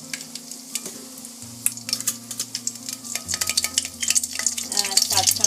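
Five cardamom pods, three cinnamon pieces and two bay leaves hit hot oil for Bengali liver bhuna, crackling and sizzling close by with sharp pops and spitting that grow busier toward the end, over a low steady hum.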